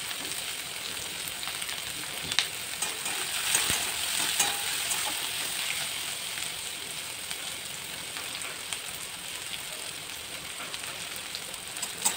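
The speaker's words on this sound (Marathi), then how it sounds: "शिमला मिरची चांगली परतून घ्या, थोडा वेळ लागेल।" Capsicum sautéing in a pan for a veg frankie roll, making a continuous rain-like sizzle with a few soft stirring clicks, steady and fairly close.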